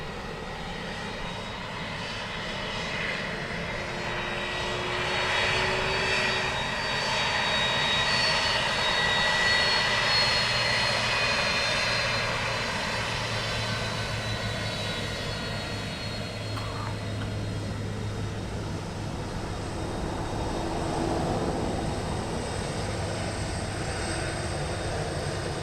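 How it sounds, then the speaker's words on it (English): Boeing 747 taking off at Dublin Airport, a broad sustained jet roar heard from a distance, swelling slightly and holding steady throughout with no talk. "Catch this 747 takeoff."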